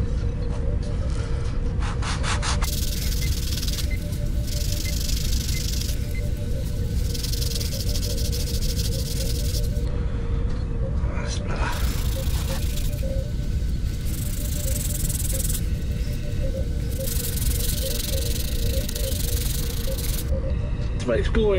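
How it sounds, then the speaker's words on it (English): A rubbing block sands filler primer on a Star Trek Voyager Endgame science tricorder prop build, giving steady close rasping strokes in a continuous back-and-forth rhythm, loud and alone throughout. "sand it down again, then I'll spray this again with filler primer. And I've got my rubbing block,"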